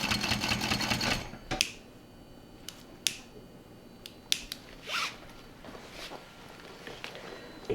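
An industrial sewing machine box-stitching the shoulder strap of a recycled bag, a dense burst of stitching at the start followed by sparse clicks, snips and handling sounds.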